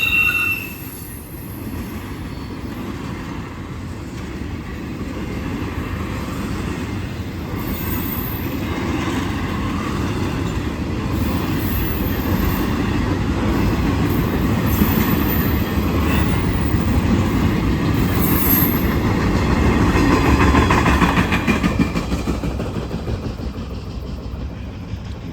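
A long Norfolk Southern southbound freight train with Canadian Pacific, KCS and C6M locomotives rolls past steadily and loudly, with a continuous low rumble of wagons and intermittent high wheel squeal.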